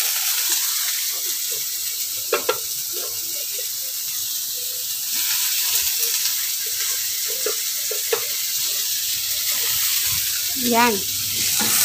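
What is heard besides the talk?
stirring ampalaya (bitter gourd) frying in a pan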